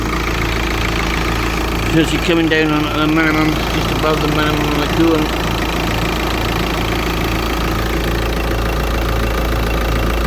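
A VW Golf Mk5 GT TDI diesel engine idles with a steady, loud, rhythmic clatter throughout. Someone talks over it for the first few seconds.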